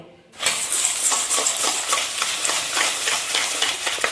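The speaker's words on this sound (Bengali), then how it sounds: "দিয়ে এই ডিমের সঙ্গে চিনিটাকে ভালোভাবে ফাটিয়ে নেব।" Eggs and whole granulated sugar are whipped together in a bowl for a homemade cake, with fast, rhythmic scraping and clinking strokes that start abruptly and keep up steadily.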